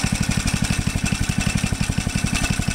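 A small Dixon mower engine idles steadily up close, a low, even chugging pulse repeating without change.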